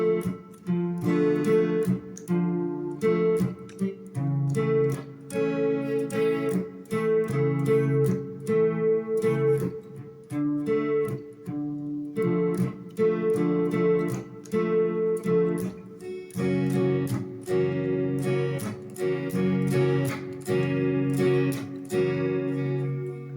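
An electric guitar, with effects and light distortion, plays the rhythm part under the solo of a song, steady chords with a repeating, strummed pattern and brief pauses, close and alone.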